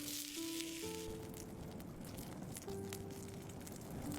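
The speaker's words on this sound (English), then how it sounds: "The man who ate poison in the wilderness get out a bottle of sparkling drink on the sizzling beef." Tomahawk beef steak sizzles on a hot stone over an open forest fire, a soft, continuous crackling fry with faint clicks and brief tonal hums, close and fairly quiet with no speech.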